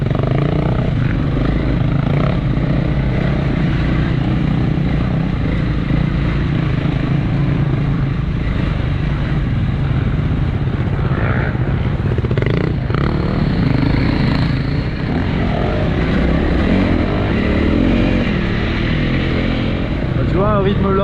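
A 2025 Honda CRF300L trail motorcycle ridden enduro-style at a slow pace, its engine a steady, low drone with wind noise throughout, while the rider talks over it.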